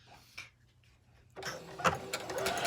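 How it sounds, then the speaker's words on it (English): A sewing machine kicks in after a quiet moment, stitching with a fast, steady mechanical whir and rattle, close and fairly loud. "this can get a little loud as it is a wonderful sewing machine"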